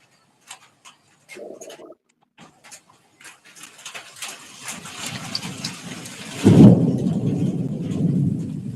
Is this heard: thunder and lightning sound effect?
yes